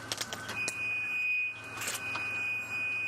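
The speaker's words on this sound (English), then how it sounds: "Now, Aqua, as we attempt to not deafen ourselves with the brakes" Brakes on a safari vehicle squeal in a steady high-pitched whine, near and loud, cutting out briefly in the middle before resuming, with rattling knocks at the start.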